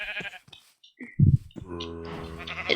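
A sheep bleats in Minecraft, one short game bleat near the middle, close and clear, framed by other brief game sounds and a tonal, music-like stretch afterward.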